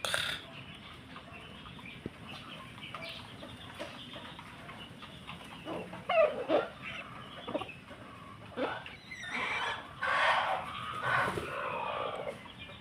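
Broodcock hens in a backyard clucking in scattered soft bursts at moderate distance, with occasional louder calls and rustling between quiet gaps.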